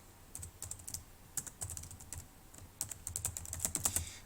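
Typing on a computer keyboard, steady quick keystrokes at close range that speed up toward the end, with no voices.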